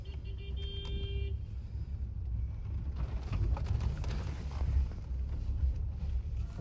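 A car pulling into a mall's entrance in Mumbai, its steady engine and road rumble running close throughout with a brief tone early on and no clear talk.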